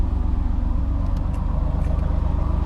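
A 1985 Chevrolet Camaro Z28 with a 2.5-inch exhaust idles after a cold start, a steady, deep rumbling burble with even pulsing, close by and continuous with no voices.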